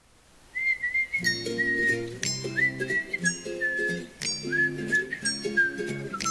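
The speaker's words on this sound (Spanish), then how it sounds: "Este canto es del chorlito." A plover gives a series of clear, whistled calls, rising and sliding notes repeated several times at moderate volume, with a steady low tonal backing running underneath.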